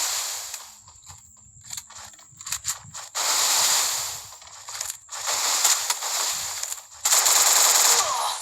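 Automatic M240 machine gun and shotgun fire in a multiplayer shooter video game, sustained loud bursts of rapid gunfire in several long stretches with brief gaps between them.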